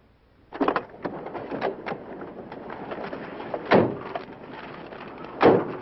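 A car door opening on a roadside stop, with a couple of sharp clunks and rattles up close, then two louder, heavier thumps later on, over a low idle-like background.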